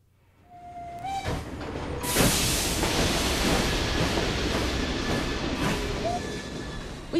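A train in Assassin's Creed Syndicate rolls along with a steady, dense rumble and hiss that swells in after a quiet start and holds, with a faint whistle-like tone near the end.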